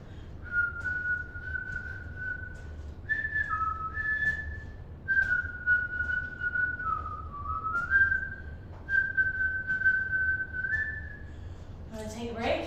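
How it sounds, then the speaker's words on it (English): A person whistles a melody in long sustained notes with brief pauses between phrases, close and clear over a low background rumble, ending with a short noise. "I don't know why I started whistling"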